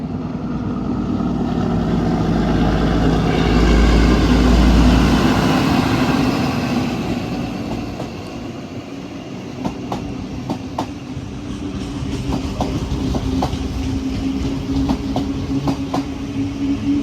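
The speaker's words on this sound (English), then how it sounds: "we have an XPT heading to Brisbane Roma Street about to pass us on platform" An XPT passenger train bound for Brisbane passes a platform at Broadmeadow station in Newcastle, a loud, steady rumble that swells, then settles into rhythmic clickety-clack wheel beats over the rails.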